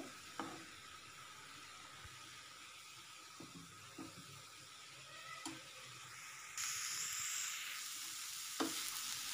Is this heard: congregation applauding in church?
no